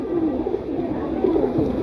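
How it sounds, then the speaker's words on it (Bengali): A male pigeon with red plumage and a green neck coos up close in a continuous low, rolling murmur. "এই হচ্ছে একটা নর কবুতর লাল গিয়ারের সবুজ গলা স্টাইলের কবুতর নর"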